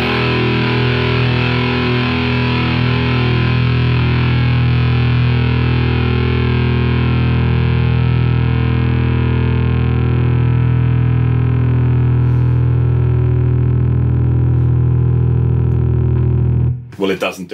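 A Zvex Fuzzolo fuzz pedal with its knob turned fully counterclockwise holds a thick, steady distorted guitar drone for many seconds before it cuts off abruptly.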